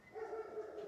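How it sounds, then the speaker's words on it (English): A dog barking indoors, faint and fairly distant, in one brief whining yelp with no talk over it. "I don't know why he's barking."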